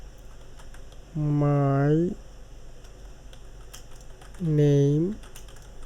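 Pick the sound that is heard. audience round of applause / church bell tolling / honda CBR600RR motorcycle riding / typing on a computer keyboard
typing on a computer keyboard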